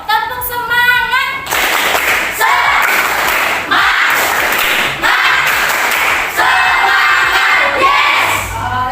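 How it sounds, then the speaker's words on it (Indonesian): A group of children in a school classroom performs the rhythmic 'tepuk semangat' spirit clap, loud, patterned bursts of clapping mixed with shouted chanting voices that repeat in short phrases over about nine seconds. "ayo tepuk semangat"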